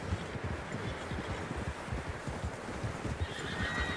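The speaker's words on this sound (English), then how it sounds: "Horses, quite a few of them." Several horses in Red Dead Redemption 2 whinny and neigh over a steady clatter of hooves, a busy outdoor scene with a faint breeze in the background.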